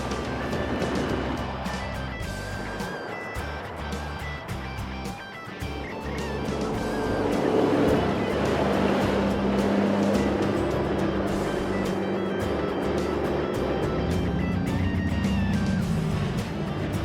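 A car driving with its hood removed to let engine heat escape, a steady low road and engine drone running throughout, growing a little louder and fuller about halfway through.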